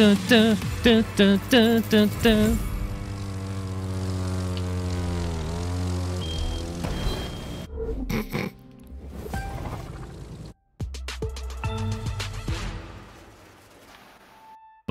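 A propeller airplane flies in the racing game The Crew 2, its engine drone steady and loud beneath game music and a voice, cutting out briefly near the end before resuming.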